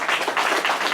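An audience at a religious summer fellowship gathering gives a round of applause, dense steady clapping that fills the space and stays close and loud throughout.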